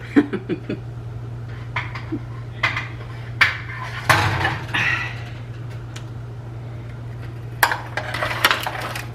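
Dessert taco shells for strawberry cheesecake tacos lifted off a metal pan, giving a scattered series of light clinks, scrapes and taps, close and fairly quiet over a steady low hum.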